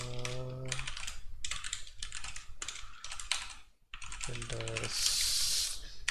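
Rapid keyboard typing in bursts of clacking keystrokes, close by, with a brief pause partway and a short tonal sound and hiss near the end.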